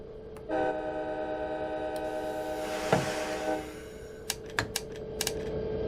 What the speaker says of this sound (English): everybody knows the train is moving